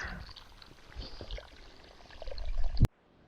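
Water pours steadily from a hose outdoors during an aquarium water change, a soft continuous rushing that builds in loudness before cutting off abruptly with a click.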